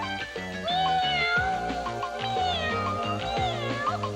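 A cat meows repeatedly within a children's nursery rhyme recording about kittens who lose their mittens, the rising and falling meows set over steady musical accompaniment.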